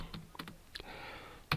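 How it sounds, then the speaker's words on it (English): Faint keystrokes on a computer keyboard during computer design work, a few scattered taps followed by a sharper, louder press of the enter key at the end, with no talking. "After typing there, you click enter on the keyboard."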